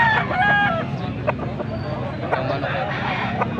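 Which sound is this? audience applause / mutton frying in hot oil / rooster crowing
rooster crowing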